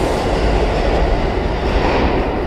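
A loud, steady rumble of a subway train in Church Avenue station, Brooklyn, New York, fills the space, with rolling wheel noise and a low mechanical drone, no talking.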